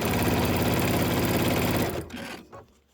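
A sewing machine stitches fabric pieces for a table topper in a steady, fast, even whirring run, then stops abruptly near the end with a couple of brief mechanical clunks.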